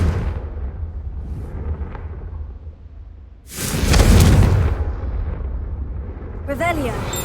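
A Confringo spell explosion in the Hogwarts Legacy video game bursts loudly after a stretch of steady background rumble, its broadband blast lingering for about a second before settling back under ambient game noise.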